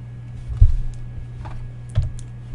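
Typing on a computer keyboard, heard as a few sparse, distinct key taps over a steady low electrical hum, close and fairly quiet, with no voices.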